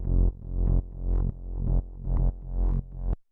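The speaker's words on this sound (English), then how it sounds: "So the next thing we have here is the sub, which sounds like this." Synthesized sub bass in an evolving bassline, playing a series of deep sustained notes in a steady rhythm, loud and alone, with some upper harmonics rather than a pure sine tone.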